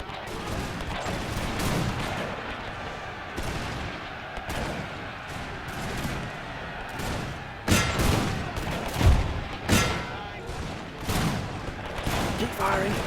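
Musket volleys crackle across a Napoleon Total War battlefield, repeated ragged bursts of gunfire near and far with heavier booms, while a voice talks over the din.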